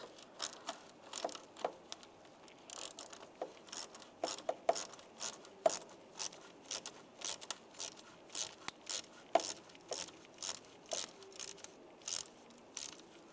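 Quick ratcheting clicks in uneven bursts as an 8mm socket loosens a hose worm clamp on a 1999-2005 Volkswagen Jetta 1.9 TDI engine, close and fairly quiet, with no talking.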